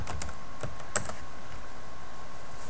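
A computer keyboard being typed on to enter a search, with a few sparse, light keystroke clicks close to the mic in a quiet room and no talking.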